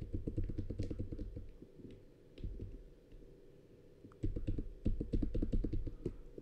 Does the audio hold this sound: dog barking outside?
no